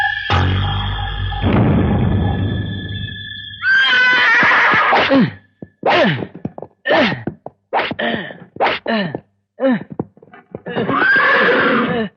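Horses neigh loudly and close in a period action drama, a long whinny followed by a string of short, sharp snorting calls and breathy bursts, with a rumbling scrape underneath at the start.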